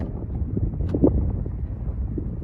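Wind buffets the microphone in low rumbling gusts as a storm brews outdoors, continuous and close, with no speech.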